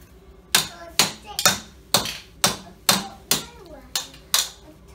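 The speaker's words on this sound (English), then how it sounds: "You hammer on this wall." Hammer blows on a wall during a weekend of DIY, about nine sharp, close knocks at a roughly even pace, each fading quickly, with soft voices faint in the background.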